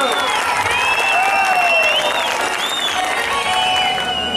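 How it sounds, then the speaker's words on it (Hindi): Loud applause and some cheering from a stage programme crowd welcoming comedy performers, a thick continuous clapping wash with whistle-like tones running over it. "जोर जोर के ताली देके स्वागत करो"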